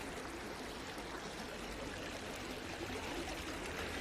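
Fast-flowing river water rushes steadily at a chub and roach float-fishing swim, a dense, even broadband wash with no pauses and no talk.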